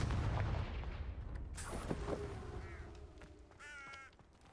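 Confringo blasting spell fired in the Hogwarts Legacy video game: a booming explosive blast at the start, followed by crackling debris and a fading rumble, with creature shrieks near the end.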